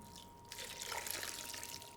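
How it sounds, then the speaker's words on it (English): Hot soup liquid pours over broccoli in a blender, a soft trickling splash that swells in the middle and then settles to a quiet running stream, faint and close. "very carefully pour the liquid in"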